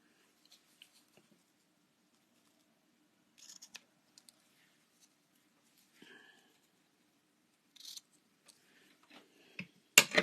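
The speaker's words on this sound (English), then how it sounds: "let me just grab my scissors to trim this." Scissors trim a piece of paper card for a folded greeting card, giving a few faint, sparse snips spread out with quiet gaps between them.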